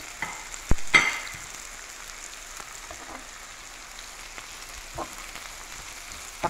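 Garlic, tomato and bouillon cubes fry in a pan with a soft, steady sizzle, opened by a couple of sharp clinks near the start, then settling into quiet crackling with occasional faint taps and no talking.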